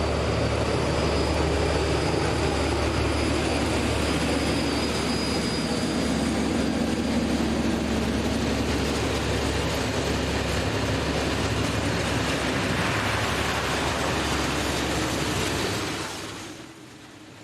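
M62 diesel locomotive pulling a train out of Balatonfenyves station, a loud, close, sustained engine drone and rolling rumble that continues steadily before fading out at the end.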